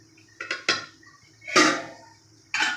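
A utensil scrapes and clinks against a metal pot of mutton biryani in a few short bursts, close by, with quiet pauses between the stirs.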